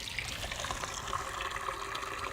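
Rainwater trickles steadily through a Berkey gravity water filter into a pitcher beside a tiny wooden house, a continuous soft dribble with a faint splashy hiss and no talk.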